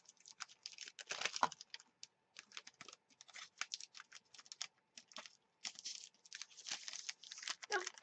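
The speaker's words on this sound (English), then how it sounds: "Now, to get them back in the plastic bag," Rubber craft stamps are slipped back into a plastic storage bag, giving a run of soft crinkling, rustling and tapping bursts that come and go for several seconds, close and fairly quiet.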